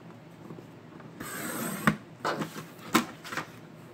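A paper trimmer slices through doubled paper strips for a mini album, giving a soft, fairly close scraping glide followed by a few sharp clicks of the blade and cutting head.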